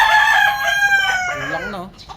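Sweater gamefowl roosters crow loudly and close, one long harmonic cock-a-doodle-doo with a second overlapping crow near the end, its pitch sliding down.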